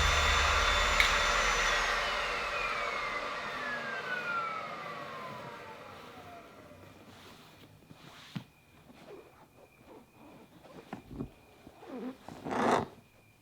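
An upholstery cleaner works a stain on the back bench seat of a Honda Accord, its steady motor whine fading and winding down in pitch, followed by scattered quieter handling clicks and bumps.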